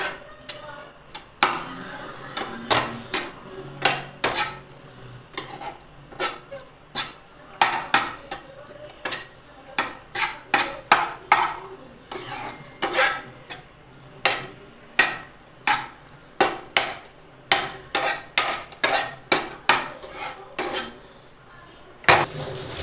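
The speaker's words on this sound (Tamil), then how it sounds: "நம்ம நல்லா இதை மாதிரி மிக்ஸ் பண்ணணும்" Scrambled eggs being stirred in a pan, a spoon clinking and scraping against the metal in a steady stream of sharp taps with no talking.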